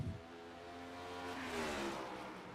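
Faint engine whine from racing cars in an iRacing video game race at New Hampshire, a steady drone that slowly rises in pitch as they accelerate, quiet and distant.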